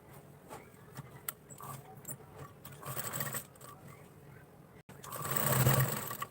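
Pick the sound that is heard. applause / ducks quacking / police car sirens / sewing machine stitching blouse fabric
sewing machine stitching blouse fabric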